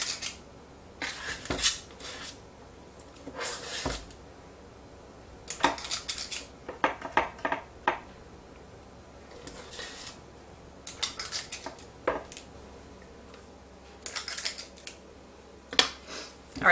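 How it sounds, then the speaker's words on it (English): A cookie scoop drops dough into a metal muffin tin, giving sporadic close metallic clicks and scrapes in small clusters, separated by quiet pauses. "So we're going to take my cookie scoop. And I'm just going to drop in to each little muffin tin."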